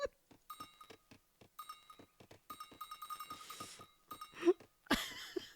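Video game sheep bleating again and again, short overlapping calls from a large flock in a rhythmic series, alongside sharp game clicks and effects.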